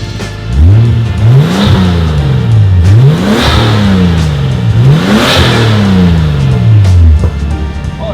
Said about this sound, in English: Rev them up.